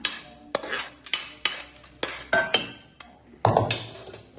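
Roasted chillies, pepper, cumin and salt are ground to powder by hand, with close, regular knocking strikes about twice a second and a gritty scrape after each hit.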